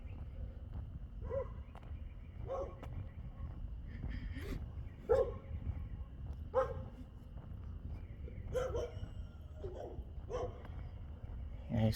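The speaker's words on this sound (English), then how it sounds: "There's some dog that's loose." A loose, territorial dog barks repeatedly at night on a residential street, short sharp barks at a moderate distance coming in irregular bursts over low background rumble.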